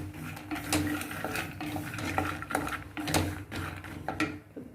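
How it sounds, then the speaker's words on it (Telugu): Peanuts fry in butter in a pan for a phool makhana snack and are stirred briskly. A spoon scrapes and clinks against the pan again and again over a soft sizzle, with no voices. "బాగా ఫ్రై చేసుకోవాలి"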